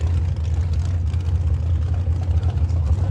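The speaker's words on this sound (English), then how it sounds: "the Corvette sounds like it is hitting an RPM chip" A nitrous-fed C7 Corvette purpose-built race car engine drones loud and low, stuttering against its rev limiter in a choppy, uneven roar rather than a clean pull.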